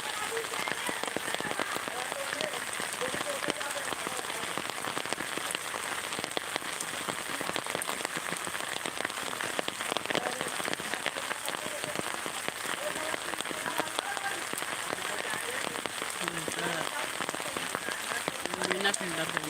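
Steady rain falls on surfaces in a riverside village: a dense, even hiss of drops that continues unbroken throughout, with faint voices in the background.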